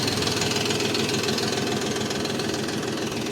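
A DTZ 354U tractor's 1.9-litre engine idles close by with a steady, even mechanical chug and a fine rapid knocking, running alone without pause and with no one talking.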